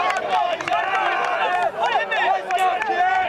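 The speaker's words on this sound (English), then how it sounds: "Huge crowd here today" Crowd noise at a high school baseball semifinal, Hazen versus Thetford, with a steady hubbub of many voices, cheers and chatter filling the ground throughout, fairly loud and continuous.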